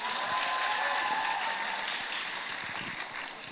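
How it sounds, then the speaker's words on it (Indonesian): Audience applause at the Jong Indonesia Festival 2025, heard as a soft, distant wash of clapping with a few faint whistles or cheers. It holds steady, then tapers slightly at the end. "Boleh tepuk tangan sekali lagi?"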